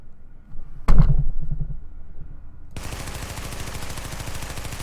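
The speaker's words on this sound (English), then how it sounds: "let's try it on full auto." Submachine gun firing on full auto in The Division, a single loud shot near the start, then from about 2.8 seconds a sustained rapid burst of closely spaced rounds continuing to the end.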